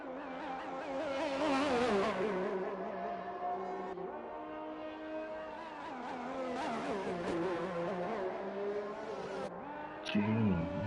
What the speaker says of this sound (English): sounds like a gearbox is stuck